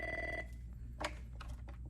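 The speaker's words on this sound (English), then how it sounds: "the phone's been ringing for like 10 minutes" A telephone in an office rings with a short electronic trill, fairly faint and brief, followed by soft clicks and room noise.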